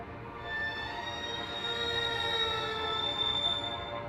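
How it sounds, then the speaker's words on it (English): An early sketch of the Moonstruck film score theme plays as a sustained, somewhat screechy synthetic tone with steady high harmonics, holding evenly for a few seconds without any voices. "This is what the initial sketch of the actual theme sounded like."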